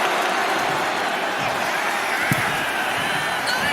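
Arena crowd in the WWE 2K25 wrestling video game, a constant roar of cheering and noise with a dull impact thud midway and faint speech-like commentary underneath.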